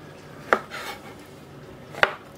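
A knife cuts a mushroom into quarters on a cutting board while vegetables are prepared for a macédoine, two crisp, close chops about a second and a half apart with a soft scrape between them.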